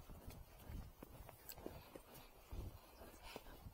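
A confident horse out on a ride walks with soft, irregular hoof clip-clops against a steady wash of broadband outdoor noise, faint and fairly distant, with no talking.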